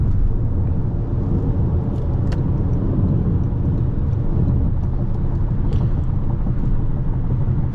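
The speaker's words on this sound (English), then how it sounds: "This is 65 miles an hour on not the best road, so a little bit of road noise, a little bit of wind noise" Steady broadband rumble of road and wind noise inside a 2023 Toyota Crown Platinum HybridMAX cruising at 65 mph on a rough freeway surface, continuous and even throughout with a few faint ticks.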